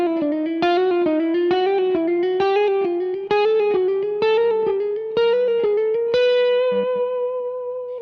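Electric guitar with distortion and effects runs a rising fusion chromatic lick, plucked notes in a steady, even stream that climb gradually before ringing out on a held target note, loud and up close.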